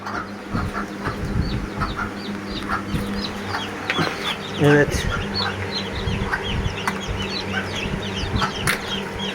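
Newly hatched village chicken chicks in an incubator peep in high, rapid chirps under steady background noise, with a brief wing flutter and a short spoken word partway through.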